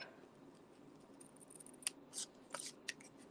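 Scissors snipping through card stock while trimming a handmade greeting card, a few short faint cuts in quick succession against a quiet room, with no talking.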